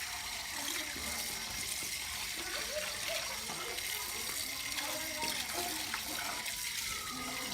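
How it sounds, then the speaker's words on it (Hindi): Water splashing and pouring over a dirty machine to wash it at a village home, a continuous gushing wash with faint voices beneath. "तो मैंने ऊपर से पानी पहले मार रही हूँ इस पर, जो कि ये है ना, ये साफ हो जाए"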